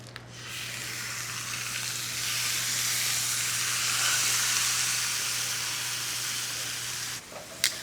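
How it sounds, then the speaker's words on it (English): Chicken searing in a hot pan under a kitchen vent, a strong, steady sizzle with a low hum beneath it, then a sudden drop near the end and a brief clatter. "All right, so we're searing."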